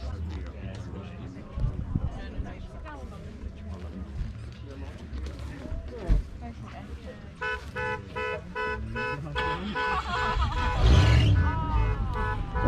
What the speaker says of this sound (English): Only some Jaguar alarms going off.